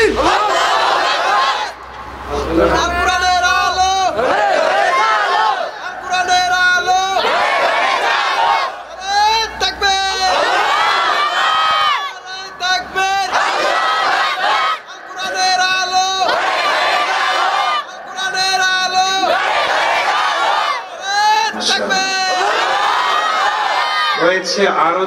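A large crowd at a religious sermon gathering chants the slogan Nara-e-Takbir, with loud, repeated call-and-response shouts by many voices, close and forceful, with brief pauses between chants.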